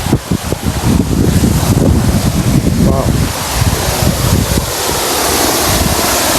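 Water from a small waterfall at Mount Albert in New Zealand rushes as a loud, continuous broadband roar, buffeted by wind on the microphone, steady throughout with no clear talk.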